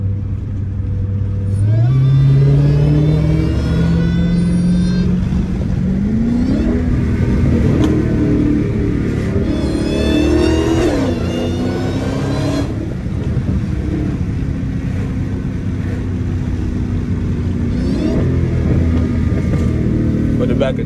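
A 900 horsepower Dodge Hellcat accelerates through evening traffic, its engine climbing through repeated rising revs with a whining pitch that sweeps up in several pulls, loud and close.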